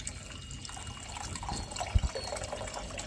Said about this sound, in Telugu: వాటర్ పోసుకోవాలి 1 లీటర్ దాకా